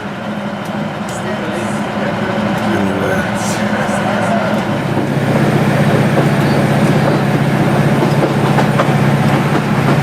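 A train to Barrow pulls into a coastal Cumbrian station near Nethertown and St Bees, a steady rumble and rail clatter growing louder in the second half, with a voice talking briefly early on.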